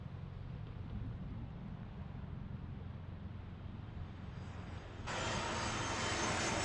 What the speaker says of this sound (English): as the 737 is landing